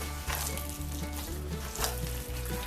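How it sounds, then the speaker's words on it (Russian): Minced meat mixed by hand with egg for oven-baked cutlets gives a steady, wet squelching and slapping close by, continuing throughout with no talk over it. "Фарш перемешиваю тщательно, как тесто"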